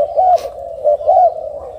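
Spotted doves cooing at a bird farm in Ca Mau, close and clear, a soft throaty coo repeated in several swelling phrases, with a brief rustle near the start.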